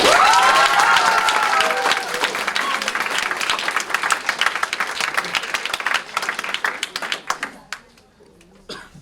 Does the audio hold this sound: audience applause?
yes